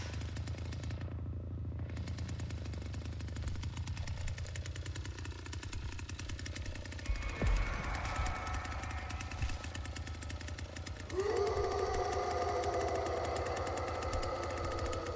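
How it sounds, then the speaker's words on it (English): A chainsaw in The Texas Chain Saw Massacre game runs continuously with a rapid, rattling engine drone, close and loud, revving to a harsher pitch in the final few seconds, with no speech. "So that's why I'm not turning off my chainsaw."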